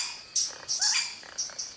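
A Vogelkop bowerbird mimics the call of a modest tiger parrot in a quick series of sharp, high chirps and short whistled notes, clear and close, with no voices.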